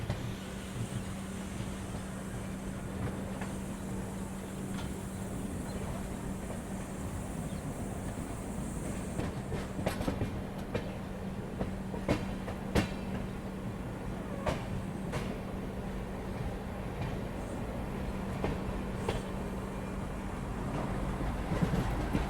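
Indore Amritsar Express train on the move: a steady, continuous rail rumble with a low, constant hum and scattered faint clicks and knocks throughout.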